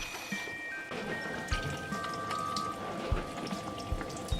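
Water being poured into a pot of chicken adobo, a soft, continuous splashing trickle with a few small clunks from the pot, close and fairly quiet.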